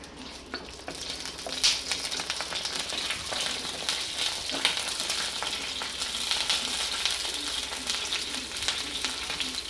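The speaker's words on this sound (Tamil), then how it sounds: "ஏலக்காய் வந்து பொரிஞ்சிருச்சு" Whole star anise, cinnamon and cardamom fry in hot oil with a steady, dense crackling sizzle and scattered sharper pops, close and continuous throughout with no talking.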